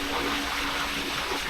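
Water sprays steadily onto ducks on a duck farm, a continuous hissing shower close by, with no break across the short span.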